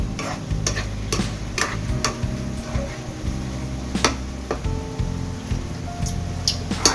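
Pancit canton noodles fry in a pan, with a continuous crackling sizzle under repeated clattering knocks and scrapes as they are stirred and tossed.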